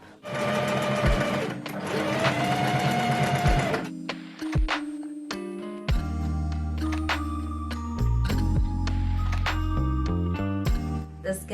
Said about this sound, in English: I think I can go ahead and sew this up